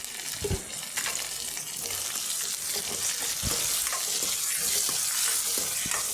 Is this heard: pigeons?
no